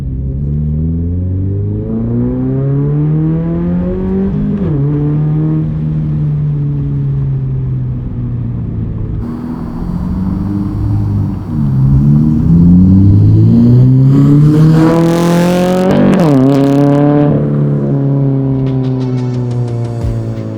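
Subaru BRZ fitted with an aftermarket exhaust accelerating hard through rising revs, with a brief shift dip midway and a loud, sustained engine roar that swells toward the end.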